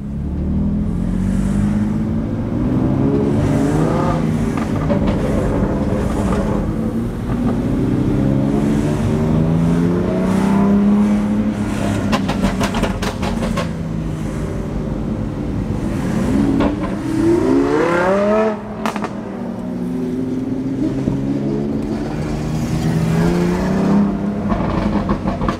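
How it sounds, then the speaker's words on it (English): A GT2 sports car engine roars loud and steady throughout, with the revs climbing in rising sweeps toward the end as it accelerates close by. "GT2 right here."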